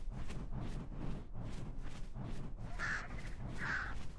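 Harsh, raspy crow-like caws repeat in a steady rhythm from a bird in the video game Ark: Scorched Earth. Two louder, brighter calls stand out near the end over a constant low background rumble.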